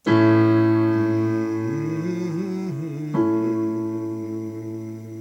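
A single voice hums a low note, sliding up and down in pitch before settling and holding steady; close and alone.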